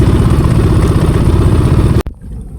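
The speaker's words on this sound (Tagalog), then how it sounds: "pinatay ko na mga kaputol ang makina" A boat's engine runs steadily and loud at sea, a dense rumbling drone that cuts off abruptly near the end, leaving quiet water and faint ambient noise.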